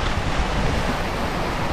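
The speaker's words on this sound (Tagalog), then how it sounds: "Mahampas na yung alon." Waves crash and wash at sea near the shore opposite Tingloy in the afternoon, a dense continuous roar with wind buffeting the microphone.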